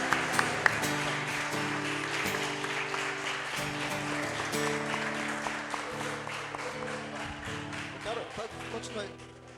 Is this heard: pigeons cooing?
no